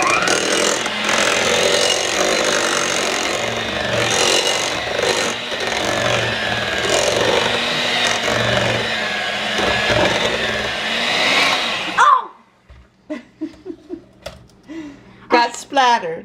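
An electric mixer beats cake batter in a bowl, whirring continuously and close by for about twelve seconds before cutting off, after which a person talks.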